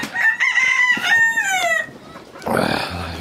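A rooster crows loudly and close, a long drawn-out call, followed by dwarf chickens clucking and a burst of flapping.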